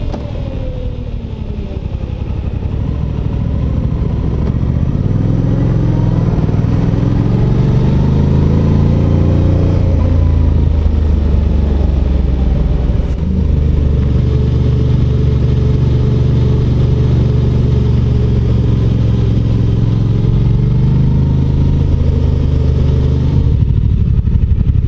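A Suzuki GSX-8T motorcycle engine drones steadily while riding, its mid-pitched tone rising and settling through gear changes, loud and continuous with wind rush and no talk.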